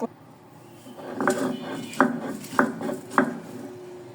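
Bombay chilies being ground by hand for a mashed chili dish: a close, steady series of hard knocks and scrapes repeating about every half second, moderately loud and without speech.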